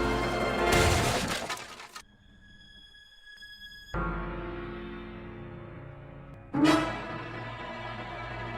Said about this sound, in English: Brian drives off in a drunken rage, loses control of his car, and smashes into Quahog's beloved nativity scene